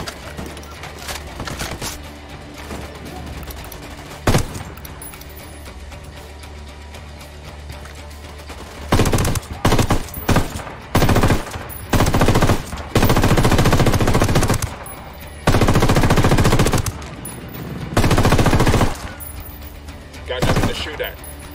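Machine gun fire in Ghost Recon Wildlands during a boss fight with a helicopter, long loud sustained bursts with short pauses, preceded by quieter ambience and a single shot, with radio-style voices talking early on.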